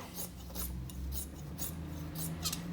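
Scissors trimming fabric for double piping, a soft close rasping and snipping repeated at a steady pace over a low background hum, quiet and without speech.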